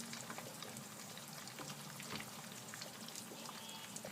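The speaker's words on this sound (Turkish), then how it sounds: "Bu şekilde tereyağını alıp kaşıkla üzerine döküyorum." Butter sizzles in a pan as it is spooned over sunny-side-up fried eggs, a steady close crackle and spatter of frying with no voices.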